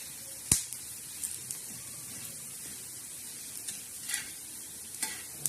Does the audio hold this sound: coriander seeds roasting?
yes